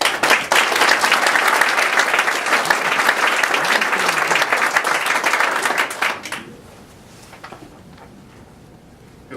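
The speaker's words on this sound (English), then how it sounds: "please join me with a round of applause for Dean Blackwell" A morning audience at an entrepreneurship event gives a round of applause, dense clapping for about six seconds that quickly fades into quiet room tone.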